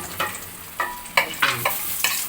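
Onions frying in a pan for ghee rice, a steady sizzle broken by several sharp stirring scrapes at irregular intervals, close and fairly loud with no talking.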